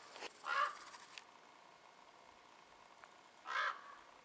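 A crow caws twice outdoors in open backcountry, each call short and harsh and spaced about three seconds apart, moderately distant against quiet ambient air.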